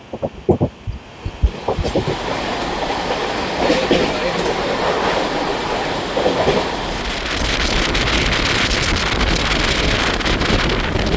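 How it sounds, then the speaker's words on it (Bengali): A Saheb Ganj–Howrah express train passes alongside a moving train near Chhaprer Dhal, a loud rushing roar with wind buffeting and rattling wheels, preceded by a few sharp clunks. "সামনে থেকে ট্রেন আসছে দেখুন"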